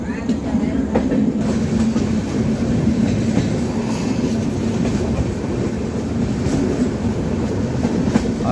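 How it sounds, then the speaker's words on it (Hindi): A passenger train runs steadily on the rails just after leaving platform 8 of Barauni Junction, heard from inside the carriage as a loud continuous rumble with rhythmic clickety-clack of the wheels and no talking. "हमारी गाड़ी खुल चुकी है बरौनी जंक्शन के प्लेटफॉर्म संख्या 8 से"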